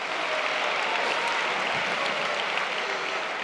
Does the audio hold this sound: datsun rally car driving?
no